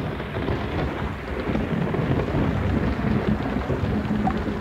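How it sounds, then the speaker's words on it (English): Rain sound effect from a radio drama: a steady, loud downpour hisses evenly throughout, with a low rumbling wash underneath and no voices. "It was raining"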